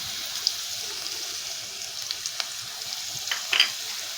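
A paste of ginger, cumin and garlic with turmeric, chilli and coriander powders and salt frying in a pan for Bengali fish curry, giving a steady, fairly faint hiss with scattered light stirring taps and scrapes.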